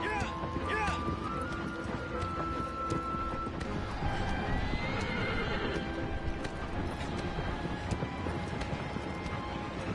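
In Shadow of the Colossus, a horse whinnies sharply and then gallops, its hoofbeats pounding in a quick, steady rhythm amid wind and game noise, with a player's voice talking over parts of it.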